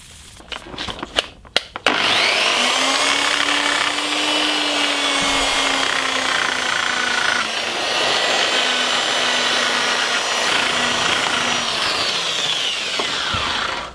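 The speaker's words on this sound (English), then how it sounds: "I actually forgot to sand the front of the headstock, so let's just do that" A power sander runs on the front of a Gibson SG Special guitar headstock with a steady whirring drone and abrasive rubbing, following a few handling knocks before it starts up.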